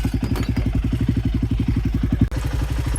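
Royal Enfield motorcycle fitted with a cheap universal aftermarket exhaust, idling with a steady, loud, rapid thumping beat close by, briefly dipping near the end before the rhythmic pulses resume.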